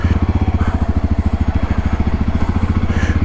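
A JAWA 42 motorcycle engine runs close by with a loud, steady thumping idle as the bike is moved aside, no voices over it.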